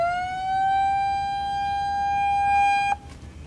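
A sawmill log metal detector powering up gives a steady electronic tone with stacked harmonics, rising slightly then holding for about three seconds before cutting off abruptly, loud and alone.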